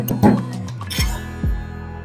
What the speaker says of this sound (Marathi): माझ्याकडे खलबत्ता होता म्हणून मी खलबत्त्यामध्ये ठेचा करते